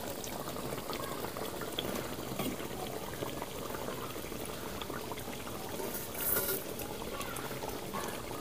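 A Naini fish curry simmers in a pan as chopped tomatoes go in, with a steady bubbling and sizzling that briefly swells when the tomatoes are added.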